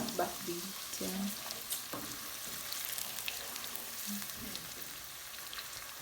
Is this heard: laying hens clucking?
no